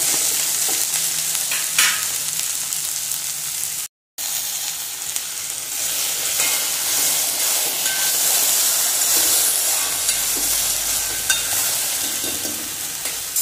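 Salted vegetables with agathi (hummingbird) flowers cooking under a lid in a pan for pachadi, giving a loud, continuous close sizzle and steamy hiss with one brief dropout.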